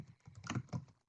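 Quick, soft keystrokes clatter on a computer keyboard in a short, uneven burst of close taps that fade into silence.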